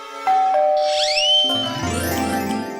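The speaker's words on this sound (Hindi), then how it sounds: "घंटे बजा" A doorbell rings loudly and close: a clear two-tone ding-dong chime, then bright swooping tones that ring on and blend into a sustained, decaying chord, with no talking.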